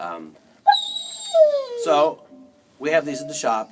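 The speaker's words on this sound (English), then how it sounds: "Pardon my dog." A dog whimpers and yips in a high, rising whine close by, with short sharp cries among spoken words in a quiet indoor room.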